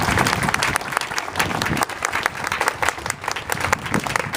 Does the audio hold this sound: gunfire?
no